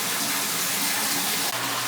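Water gushing steadily into a 600 gallon Asian jungle aquascape aquarium, a loud continuous pouring rush with no break.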